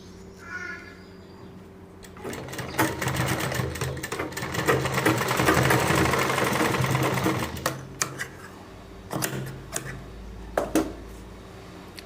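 A sewing machine runs in bursts while stitching the corner of a kurti, with a steady loud middle stretch and shorter starts and stops toward the end, heard alone without talk.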